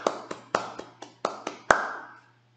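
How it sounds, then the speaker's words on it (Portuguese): Eight distinct hand claps by one person, close and fairly loud, spaced unevenly with short ringing decays and a slightly stronger final clap, with a faint steady hum beneath. "Então eu vou bater palma de um jeito."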